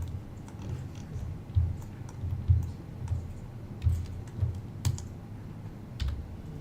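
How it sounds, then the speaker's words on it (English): Keys clacking on a computer keyboard while working in Houdini 3D software, a run of separate low thumping presses at an uneven pace, close and moderately quiet, with no talking. "So I pressed W in keyboard"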